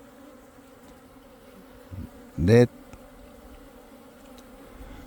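Western and Eastern honeybees near a hornet trap: one short, close buzzing burst rises briefly over a faint background hum, with a softer sound just before it and a voice speaking.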